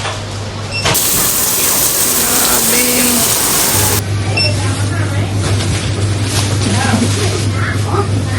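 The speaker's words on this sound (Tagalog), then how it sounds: "Ang lakas ng ulan." Heavy rain falls in Chiang Mai, Thailand, a loud, steady hiss and roar over a low constant hum, with an even harsher burst of noise for a few seconds early on.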